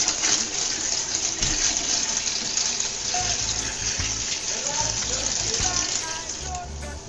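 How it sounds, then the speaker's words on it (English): A toilet flushed by filling it with water by hand, a loud, steady gush of close running water that lasts the whole stretch. "that's how we flush our toilet"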